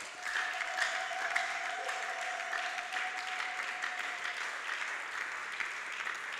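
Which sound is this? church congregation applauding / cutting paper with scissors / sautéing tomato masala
church congregation applauding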